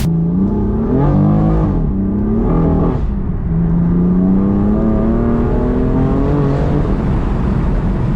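A BMW 335i doing donuts in Mexico, its engine revving hard in sustained waves with pitch climbing and falling, loud and close, with no talking.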